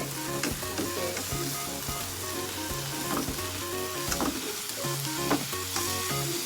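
An omelette with enoki mushrooms fries in a pan, giving a steady, crackling sizzle with faint scraping from a utensil, close and continuous with no voices.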